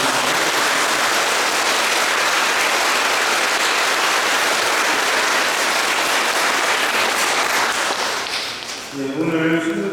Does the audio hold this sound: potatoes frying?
no